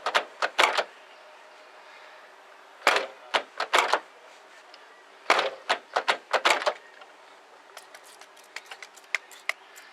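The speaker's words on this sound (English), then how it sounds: "this door sticks a little bit, the latch, so I'm going to go ahead and spray it" Sticking door latch on a 2000 BMW 323Ci being worked repeatedly, bursts of sharp metallic clicks and clacks in irregular clusters, close and fairly loud with quiet gaps between.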